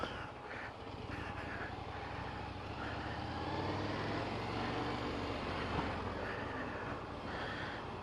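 A 2020 Indian FTR Rally motorcycle pulls away on the clutch, its engine a steady, loud broadband drone with a low rumble that holds evenly throughout, close and continuous with no voices over it.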